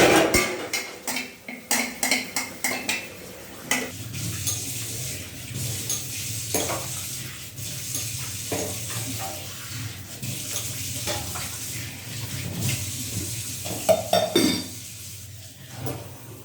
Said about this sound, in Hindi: क्या किचन का बर्तन मंज गए